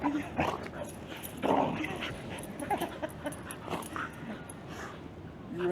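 A dog whimpers and gives short yips and barks in an eager bid to play, the sounds coming close and repeated in bursts over a steady background, with quiet talk in the room.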